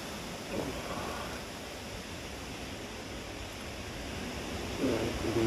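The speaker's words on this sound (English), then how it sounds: "The wind has really, really picked up." Wind blows steadily at night outside a hammock tarp during a wet, windy camp, heard as a soft, even, distant rushing hiss with slight swells.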